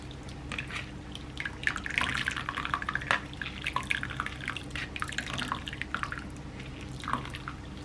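Dashi broth drips and trickles as katsuobushi flakes are pressed with a ladle, making quiet, close, irregular patters of liquid with no one speaking.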